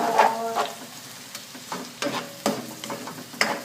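Red onions fry in a pan with a soft, steady sizzle, broken by several sharp scraping stirs at irregular intervals; no voices.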